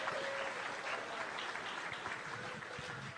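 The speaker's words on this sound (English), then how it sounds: "Everybody give him a big round of applause." Audience applause greeting a foil fencer at a fencing demonstration, a steady dense clapping that fills the whole moment at moderate level with no voices over it.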